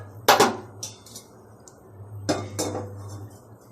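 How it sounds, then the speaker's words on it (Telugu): A metal cooking pot set down on a lit stove while preparing an Ayurvedic cough and cold remedy, two sharp clanks a couple of seconds apart with lighter clinks between, close and clear with no talk. "గిన్నె చూసుకొని పెట్టుకోండి"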